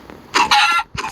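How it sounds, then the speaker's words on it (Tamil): A chicken in Minecraft clucks in two quick, loud game-sound bursts, close and clear with nothing else behind it. "ஓகே, இன்னொரு கோழி தப்பிச்சிச்சு."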